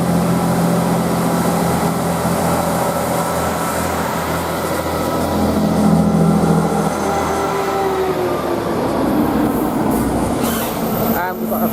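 Northern train 158850 pulls away toward Middlesbrough at Thornaby station, a steady rumbling rolling noise with wheel squeal rising near the end, under a continuous low hum and faint voices.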